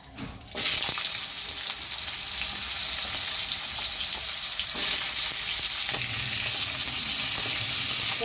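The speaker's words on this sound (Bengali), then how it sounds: "এবার আমি কুমড়োটা এর মধ্যে দিয়ে ভেজে নেবো" Steady, loud sizzling of pumpkin frying in hot oil with chillies, a continuous crackling hiss with occasional stirring scrapes.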